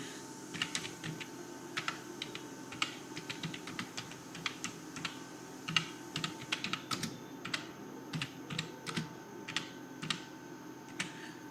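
Typing on a computer keyboard while entering a company name into a document reference field: quick, irregular clicks of keys close by, clear and steady across the stretch with no voices.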